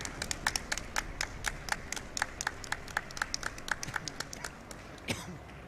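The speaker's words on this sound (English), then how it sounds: "so let's get another round of applause" Applause from a speedrun event audience, with sharp, irregular hand claps in a fast rhythm that keep going for several seconds and end on one louder clap.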